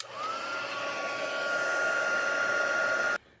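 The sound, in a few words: heat tool reheating gold embossing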